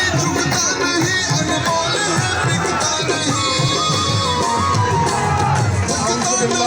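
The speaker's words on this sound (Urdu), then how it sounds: "صاحب اسٹیج پر تشریف لا چکے ہیں، بھرپور تالیوں میں ان کا استقبال کیجیے گا" A large outdoor crowd at a rainy political meeting in Havelian cheers, whoops and shouts as a speaker arrives on stage, a dense, steady roar of voices that stays loud throughout.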